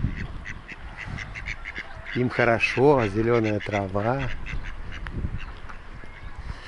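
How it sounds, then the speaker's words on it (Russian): Bashkir ducks out on green grass give a run of loud, close quacks in a short burst, while a person talks over them before and after. "Вон утки гуляют по травке."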